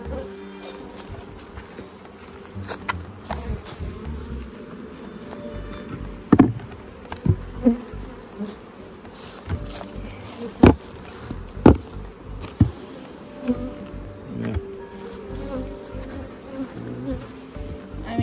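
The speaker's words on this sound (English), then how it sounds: "So you're looking for a hive with a ton of bees." Honey bees buzz in a dense, steady drone around an open beehive during queen-mating work, with sharp knocks and clicks of hive equipment standing out now and then over the continuous hum.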